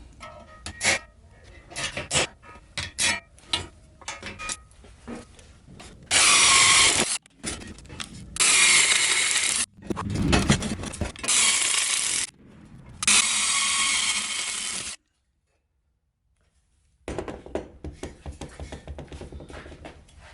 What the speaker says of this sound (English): now I'm going to drill some holes